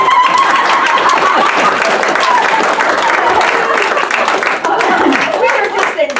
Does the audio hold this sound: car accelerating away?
no